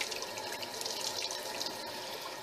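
Soapy water sloshing and splashing at a lab sink while a wire brush scrubs out a glass buret, a steady close wash of running, dripping water with no talk.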